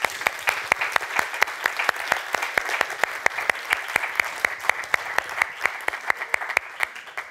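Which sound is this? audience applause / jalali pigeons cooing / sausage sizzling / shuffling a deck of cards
audience applause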